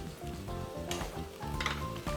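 Noodles with shepherd's purse frying in a pan, giving a soft, steady sizzle close by, with faint stirring and scraping against the pan and no talk.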